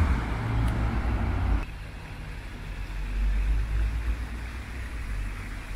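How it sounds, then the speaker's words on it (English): Steady roar of cars streaming along a busy main road through Goudhurst, a dense continuous traffic wash with a louder passing swell at the start, then a constant rumbling flow. "the main road is here in full operation with cars going everywhere"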